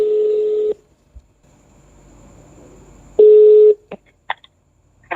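Two steady electronic phone tones, each under a second, bracket a quiet stretch, followed by a few short sharp beeps, as a call is placed and dialed.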